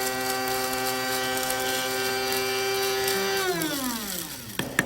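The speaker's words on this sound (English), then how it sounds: "Let's grind these up for a few seconds until they're nicely powdered." An electric grinder grinds roasted cumin seeds with a steady, close, high mechanical whine, then winds down as the motor is switched off near the end.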